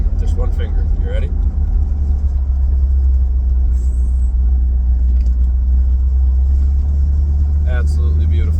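A Buick Skylark rounds a corner, its engine a steady, loud low rumble that holds throughout, with a person talking over it.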